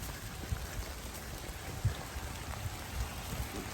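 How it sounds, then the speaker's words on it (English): Rain falls steadily outside a barn and mill shed, a soft continuous patter with scattered louder drops and no voices. "Rain came in on us, so we're trying to get finished up here before it gets too bad."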